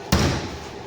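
A Ford Ranger's top-flip tri-fold tonneau cover is slammed shut in one sharp, close thud that rings briefly and fades, with no voices.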